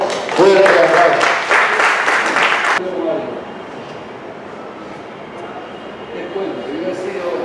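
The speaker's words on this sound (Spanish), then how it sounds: "recibamos con un fuerte aplauso" Dense applause from an audience fills the opening seconds, then cuts off abruptly, leaving a quieter room murmur with faint movement.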